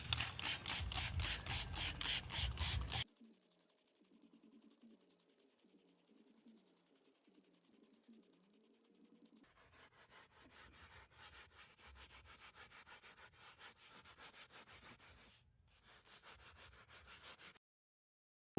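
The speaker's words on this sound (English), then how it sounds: "take this brush behind it" Rhythmic scrubbing of a stiff brush on a fabric car seat, steady back-and-forth strokes close up, continuing for several seconds after a brief louder burst at the start.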